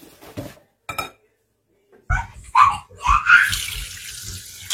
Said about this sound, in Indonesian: sekarang kita akan cuci dulu, kita tiriskan, kita cuci, kita tiriskan